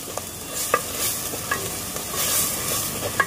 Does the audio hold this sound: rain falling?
no